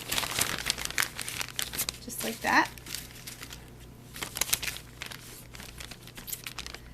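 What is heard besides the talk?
plastic bag crinkling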